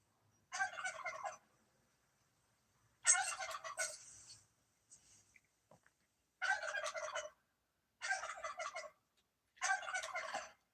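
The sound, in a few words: turkey gobbling in video game theHunter: Call of the Wild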